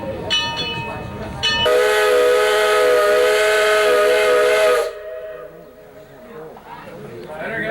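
Steam train whistle blowing a loud, steady chord for about three seconds, preceded by short hisses and followed by quieter chatter in the background at a family outing in Colorado.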